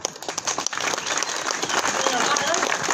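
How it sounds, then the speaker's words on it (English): A crowd claps at an outdoor cost of living protest in Cork City, starting out scattered and quickly building into dense, steady applause. "give yourselves a huge big clap"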